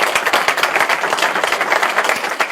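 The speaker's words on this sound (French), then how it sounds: "il faut l'applaudir très fort." A political conference audience applauds loudly and steadily. Dense clapping from many hands fills the hall at a close, even level, with a faint crowd murmur beneath it.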